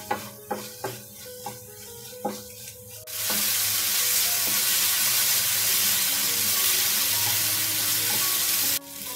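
Pav bhaji vegetables stirred in a pan with a few scraping strokes, then lemon juice added, which sets off a sudden loud, sustained sizzling hiss that cuts off near the end.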